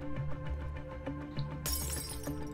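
Glass shatters in the zombie video game 7 Days to Die inside a police station, a sudden bright crash breaking over steady background game music and lingering briefly as scattered tinkling.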